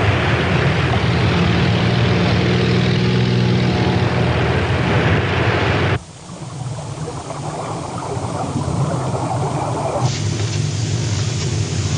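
Loud continuous airplane engine roar overhead that cuts abruptly midway to a quieter, rumbling drone, then shifts again; no voices.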